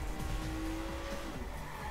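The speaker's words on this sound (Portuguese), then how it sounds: "Eita, o carro vira demais, mano." Tires squeal in a sustained high whine as a car turns hard in the Watch Dogs video game, with a steady engine drone underneath; no one talks.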